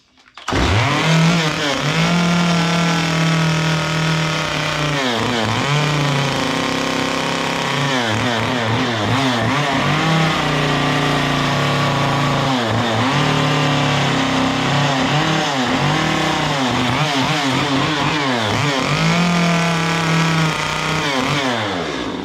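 A chainsaw carving a simple wooden gnome from a log buzzes loudly and continuously up close, its pitch rising and falling repeatedly as the blade revs and bogs into the wood.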